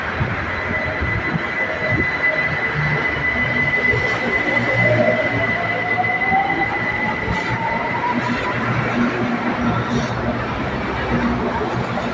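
A BTS Silom Line skytrain moves along the platform at Saphan Taksin station with a loud, continuous rumble and a rising, drawn-out wheel squeal, and a voice is heard faintly underneath.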